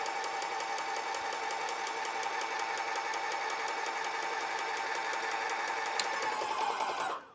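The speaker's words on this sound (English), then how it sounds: "So I'm going to turn it to prime and let the lacquer thinner that's in the machine" A paint sprayer machine priming and pumping out lacquer thinner, giving off a steady, fast mechanical pulsing hum that runs evenly and then cuts off at the end.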